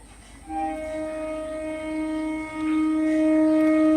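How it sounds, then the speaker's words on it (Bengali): A train sounds its horn in long sustained tones close by, the rumble swelling as it draws nearer and louder. "আর ট্রেনটা যাচ্ছে বাড়ির কাছ থেকেই খুব কাছে"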